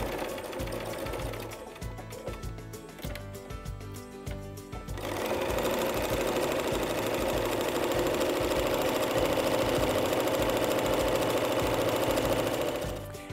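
A sewing machine stitches over a folded fabric strap to close its opening, starting with halting, stop-start bursts before settling into a loud, steady mechanical whir of rapid needle strokes.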